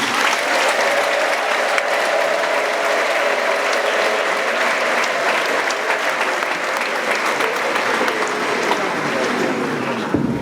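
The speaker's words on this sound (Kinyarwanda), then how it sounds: "nsabira amashyi n'impundu bikwiriye Pastor Theogene" Sustained applause from a church congregation honoring Pastor Theogene at an ADEPR gathering, steady and dense for the whole stretch, with a high shrill ululation layered over the clapping.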